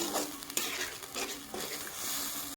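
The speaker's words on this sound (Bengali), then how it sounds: "মশলাটাকে আমি চালমগজের সাথে আমি ভালোভাবে কষিয়ে নেব" Spice paste with melon seeds being stirred and fried in a pan for a vegetarian pointed gourd dish, giving a steady close sizzle with repeated spoon scrapes and stirring strokes against the pan, no talking.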